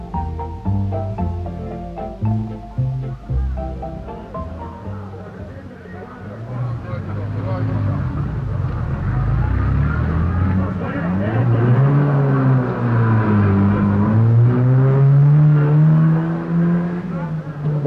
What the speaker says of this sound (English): Then off to the starting ramp where the cars leave at intervals of 1 minute.